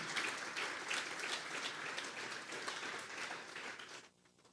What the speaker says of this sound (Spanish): Dele esa ofrenda de palmas a Dios en esta mañana.